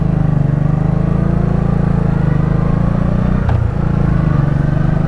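A 1984 Honda Shadow 700 (VT700C) motorcycle engine pulls hard under acceleration, a loud continuous droning throb recorded close up, with a brief dip near the end like a gear change.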